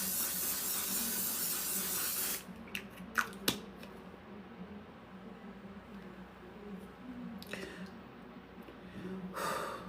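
Mattifying waterproof makeup setting spray misted from a bottle in a hissing burst at the start, followed by quieter breaths and small close sounds, with a short second spray hiss near the end.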